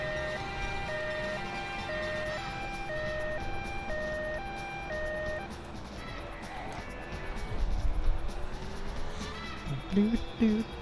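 An ambulance siren in the Driver 2 driving game wails in a steady two-tone rise and fall, fairly close, over a rumbling car engine that swells toward the end.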